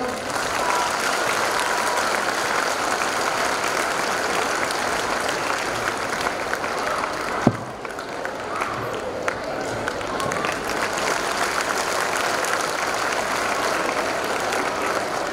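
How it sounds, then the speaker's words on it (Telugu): Sustained audience applause at an annual day celebration in Vijayawada, dense and even clapping from a large crowd filling the whole stretch, with faint voices mixed in. "ఒక్కసారి మీ చప్పట్లతో."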